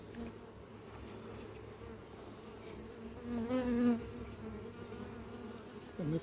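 Honeybees buzz steadily around an opened beehive, a close continuous hum that swells briefly in the middle, with no talking.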